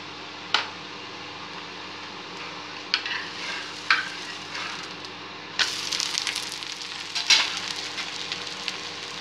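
Millet and drumstick-leaf adai cooking in oil on a pan, a quiet sizzle punctuated by a few sharp clinks of a spatula, the frying growing louder after the adai is flipped.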